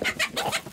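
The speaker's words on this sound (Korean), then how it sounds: "그 수고를 좀 덜어보려고 닭을 키우는데 나름 소소한 재미가 있다." Chickens on a small rural farm flock of about thirty birds, clucking and calling in several quick overlapping bursts, close and fairly loud with no talk.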